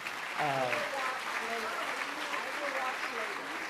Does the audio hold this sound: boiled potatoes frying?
no